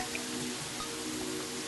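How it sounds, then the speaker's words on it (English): Rain in the Terraria video game, a steady soft patter of drops over a constant background hum, with no talk. "Oh, it looks like the rain is stopping."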